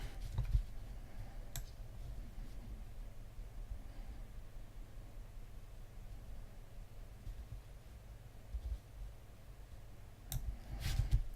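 Computer mouse clicks, a few sharp isolated taps near the start and a cluster near the end, over a faint steady background hiss in a quiet room.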